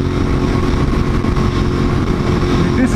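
A road motorcycle passes by loudly, its engine droning steadily at close range throughout the short stretch, with no talk over it.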